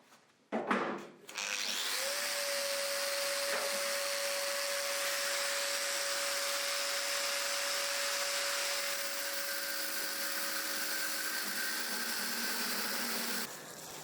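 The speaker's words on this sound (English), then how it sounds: "So time for some grinder action." An angle grinder cuts through steel tube on a Stratos tarmac rally car project, a loud steady whine with a sustained tone that runs for over ten seconds after a brief clatter as it spins up, then stops abruptly.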